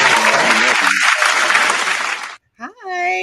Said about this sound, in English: Gotta bring you in some applause.